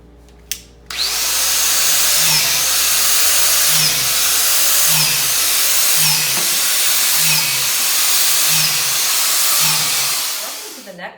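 A high-speed angle grinder fitted to drill holes bores into a mushroom log, a loud continuous high whine held for about ten seconds with a faint regular thumping underneath, then winding down.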